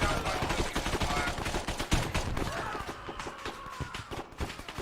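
Rapid gunfire in the military shooter game Arma 3, dense bursts of cracking shots and automatic fire rattling continuously, some close and loud, others more distant, with a mix of overlapping rounds.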